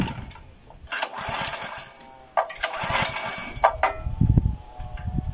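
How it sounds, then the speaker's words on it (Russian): A Draxter 2.0 off-road motorcycle engine is started up close, with intermittent cranking bursts and sputtering revs rising in uneven surges. "А так, заводится он, как вы знаете, очень легко."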